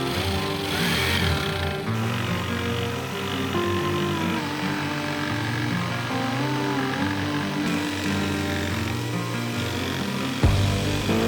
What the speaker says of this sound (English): carefully follow that guide with the jigsaw